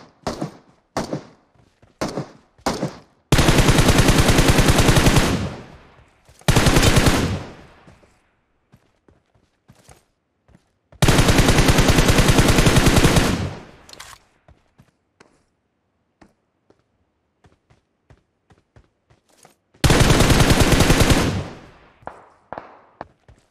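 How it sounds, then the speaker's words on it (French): Gunfire in the PUBG Mobile video game: several long, loud automatic bursts with short single shots and faint footsteps between them, no voices. "Ça, c'est une rafale de 3 dans la tête."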